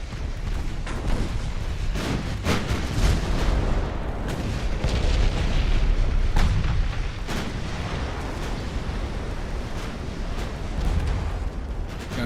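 Naval artillery in Ultimate Admiral: Dreadnoughts, a run of heavy booms and sharp blasts layered over a continuous rumbling roar, loud and close with repeated impacts throughout.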